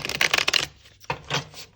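A deck of tarot cards being shuffled by hand in rapid crisp riffling bursts, two close flurries with a short pause between them.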